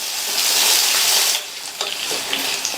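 Potatoes sauté in hot oil in a pan, a steady close hissing sizzle that softens partway through, then turns into lighter crackles and scraping stirs.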